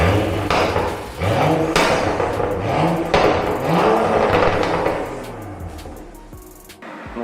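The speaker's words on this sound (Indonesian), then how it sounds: "kita biasanya di mobil BMW ini kita bikin ada yang namanya exhaust burble" A BMW 435 with remapped ECU in sport mode revs hard, its exhaust burbling and popping in rough crackling bursts. Loud and close throughout, easing off near the end.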